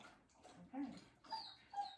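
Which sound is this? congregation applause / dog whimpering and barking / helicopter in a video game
dog whimpering and barking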